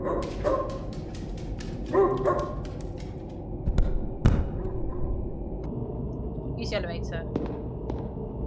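A dog barks in the indie horror game Teleforum, several short yips and barks scattered over a steady low game ambience, with a voice speaking at times.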